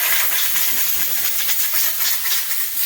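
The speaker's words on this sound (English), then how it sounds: "make sure you're periodically blowing out your sandpaper" Compressed air hisses steadily as it blows dust out of sandpaper during body prep on a car project, a continuous loud broadband rush with slight pulsing and no talk.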